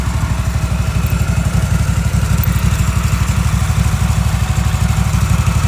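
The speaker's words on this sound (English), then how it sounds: "That's a mower." An older Cub Cadet riding mower bearing an MTD badge runs at a steady idle, its engine thumping in a fast, even low rhythm, loud and close with no talk.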